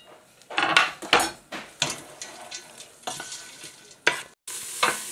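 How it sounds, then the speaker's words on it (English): Leeks, shallots and garlic sweating in a hot pan, with repeated bursts of stirring and utensil scrapes against the pan over a soft, steady sizzle, close up. "I'm just going to add the leeks and the shallots and garlic and just let that sweat down for a few minutes"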